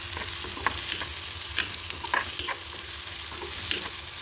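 Chopped onion browning in hot oil with a little turmeric in a pan, a steady broadband sizzle with intermittent scraping clicks of a spatula stirring, close and continuous, no voices.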